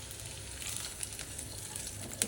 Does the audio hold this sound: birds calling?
no